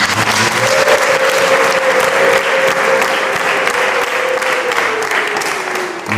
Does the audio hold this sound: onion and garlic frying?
no